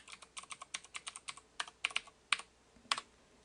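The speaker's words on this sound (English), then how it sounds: "here type in the password I give you in class" A password is typed on a computer keyboard during a class server account login, with about a dozen light, close key clicks in uneven rhythm and a few louder strokes near the end. No one speaks.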